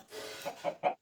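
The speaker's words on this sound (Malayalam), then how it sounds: "കോഴിയുണ്ട് ഇവിടെ" A chicken in the Minecraft video game gives a few quick, soft clucks in a short rising burst, with no voices.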